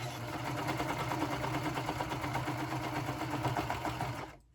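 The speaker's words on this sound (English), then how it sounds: "now I'm just going to go and sew this around" A sewing machine stitches around layered fabric pieces held with clips, a steady rapid mechanical whir with a fast regular needle rhythm, close and alone, stopping abruptly at the end.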